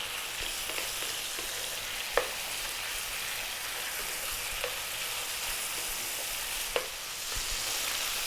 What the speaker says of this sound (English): I want to burn that off, so I'm going to cook it until it kind of evaporates out.